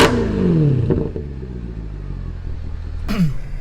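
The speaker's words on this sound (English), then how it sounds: "And the stock sound note on this thing is just incredible. I'll put an exhaust clip here," A 2010 Mercedes C63 AMG with stock V8 exhaust revs hard, falling to a rumbling idle, then blips sharply again near the end, loud and close.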